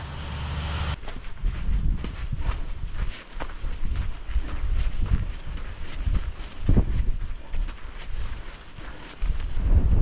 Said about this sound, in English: It's pretty blowy